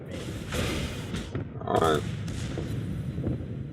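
Heavy naval guns of the battleship Bismarck in World of Warships boom in a volley, dense overlapping blasts and rumbling impacts over a continuous roar of combat, with a voice talking over the noise.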